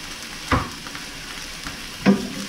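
Curry powder toasts in a pan with cooked cauliflower and broccoli, a steady soft sizzle broken by two sharp scraping stirs about a second and a half apart.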